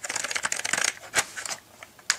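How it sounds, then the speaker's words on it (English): Rapid clattering keystrokes on an original Packard Bell computer keyboard, a dense burst of typing followed by a few scattered, separate key presses, close and fairly loud with no talking. "why don't we use the original Packard Bell keyboard?"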